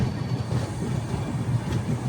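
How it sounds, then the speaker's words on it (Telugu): A train rolls steadily along the rails while rounding a curve after departing Pali Marwar, its low continuous rumble and wheel clatter filling the close, even soundscape. "మంచి టర్నింగ్ కొడుతుంది మన ట్రైన్"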